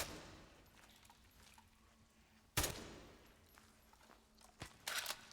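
Sniper rifle fire from the video game Atomfall: a loud sharp shot at mid-clip, a second crack shortly after and a further burst near the end, over a low hum of game ambience.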